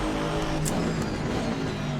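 A race car engine in Assetto Corsa Competizione roars steadily and loudly near the end of an endurance race, with constant engine drone and a brief higher whine partway through, no talk.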